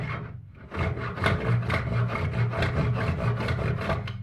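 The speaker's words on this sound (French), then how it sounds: "on va commencer par couper cette partie-là en utilisant les dents qui sont vers nous et en poussant" A hand saw pushes through wood veneer in a quiet, continuous rasping stroke, its teeth scratching steadily with a faint rhythmic pulse, close and soft, with no voices.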